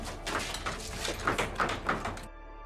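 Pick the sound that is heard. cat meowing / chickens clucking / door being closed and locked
door being closed and locked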